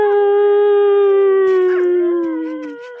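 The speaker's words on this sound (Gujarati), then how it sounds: "કૂતરો રોવે છે" A dog howls late at night in one long, sustained wailing note that slowly drops in pitch and trails off near the end, loud and close with only faint background noise.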